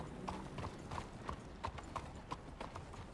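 Horse hooves clip-clop in Red Dead Redemption 2, a steady, evenly spaced walking rhythm of light thuds at moderate distance over a soft background hiss.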